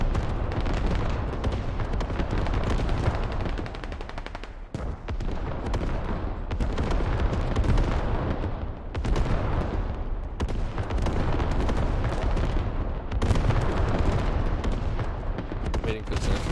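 Repeated heavy artillery blasts and gunfire boom through a military shooter match. Dense, sustained explosions come in waves with brief dips between them, loud and close.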